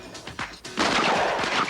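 Rapid shotgun fire from a Texas team in the Flurry event of a 1998 team shooting championship, a few sharp shots at first, then a dense, loud, continuous burst of overlapping blasts.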